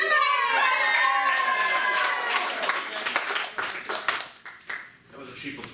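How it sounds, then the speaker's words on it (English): Live comedy show audience applauding, dense clapping that starts loud and full, then thins into scattered claps as it fades, with a few voices in the crowd. "That was a cheap applause line."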